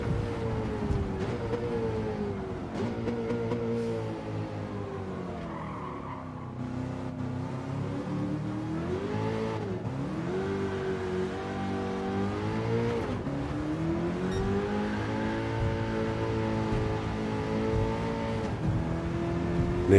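A Nissan Silvia S13 race car with an engine swap in Gran Turismo 7, its engine revving steadily and shifting through gears at high speed on the Tokyo circuit, loud and sustained with no voices.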